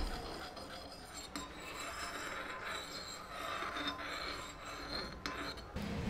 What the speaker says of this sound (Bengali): চিলি অয়েল দিয়ে ভালোভাবে মিশিয়ে দিতে হবে।